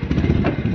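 A motorcycle engine running while riding a steep hill road, a close, loud, rough mid-pitched drone in a brief burst.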